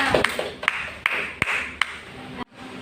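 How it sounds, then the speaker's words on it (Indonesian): Applause from a classroom audience during a teaching-skills practice session, heard as a run of scattered, uneven claps and taps from a small group that ends abruptly before a short pause. "Beri aplaus dulu kepada Mbak Lina."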